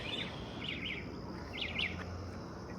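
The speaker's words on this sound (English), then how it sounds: "Really, bird? Chirp, chirp, chirp, chirp, chirp." Small bird chirps outdoors, a few quick high tweets in short clusters, moderately close over a low steady background hum.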